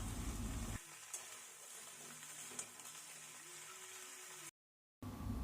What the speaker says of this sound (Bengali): সমস্ত সবজিগুলো 2-3 মিনিট মতো ভেজে নেব।